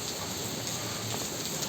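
Steady rain pours down in a dense, even hiss that stays close and constant throughout, with no voices.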